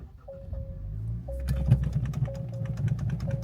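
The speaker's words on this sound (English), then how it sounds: "you ready for the new startup? Literally just like when it was stock" A Honda Integra on its stock exhaust starts up and settles into a steady low rumble, with a rapid ticking clatter layered over the idle and a faint repeating tone in the background.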